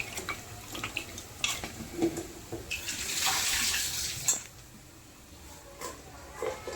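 Goat legs rinsed under a running tap, faint splashing water with soft rubbing and handling sounds, a slightly fuller gush midway, no talk.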